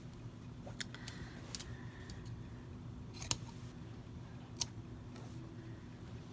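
Scissors snip through a shirt sleeve at even intervals while a new sleeve placket is being made; several sharp, separate cuts and clicks, close and fairly quiet, over a low steady room hum.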